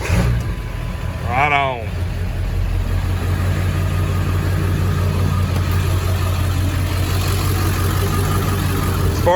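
A Ford F-350 diesel pickup with a TNS tuner and cold air intake cranks over and fires up, then settles into a steady, loud low idle; a voice speaks briefly near the start.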